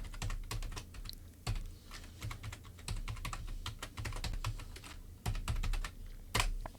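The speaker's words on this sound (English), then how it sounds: "I'm going to type this one into chat." Typing on a computer keyboard, close and quiet: a busy run of light, uneven key clicks with occasional heavier thumps, no voices.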